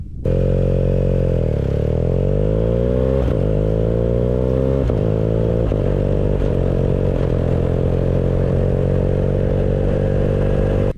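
A motorcycle on Shinko E705 tyres rides on bitumen, its engine a loud, steady drone that rises and falls in pitch with throttle changes and gear shifts, heard up close for the whole stretch.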